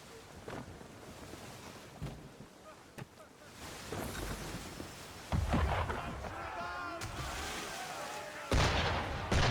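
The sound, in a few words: cannon fire from an enemy ship, from the video game Assassin's Creed 3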